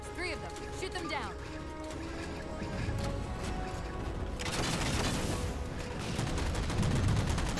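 Gunfire in Halo 4 as jammers are shot down, steady dense shooting with rattling bursts over a continuous, busy battle background, growing more intense toward the end.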